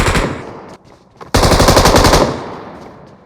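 Automatic gunfire in PUBG Mobile, loud close bursts of rapid shots, a short burst, a pause, then a longer sustained volley that fades out.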